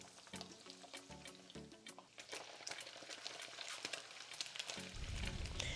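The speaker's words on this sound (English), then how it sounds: "deep fry it as I'm doing right now" Cured lamb deep frying in hot oil, a steady bubbling sizzle with crackling pops, close and quiet, with a few faint clinks and the frying swelling louder toward the end.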